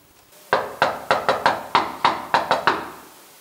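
Knocking on an apartment door by utility inspectors: nine sharp knuckle raps in an uneven rhythm, loud and close, each decaying quickly, after a short quiet lead-in.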